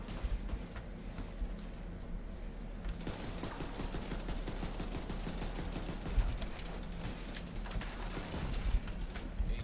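ACR assault rifle in The Division 2 firing in rapid bursts, a dense rattle of gunshots and mechanical clatter that carries on steadily throughout with no talking.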